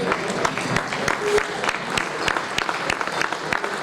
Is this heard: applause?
yes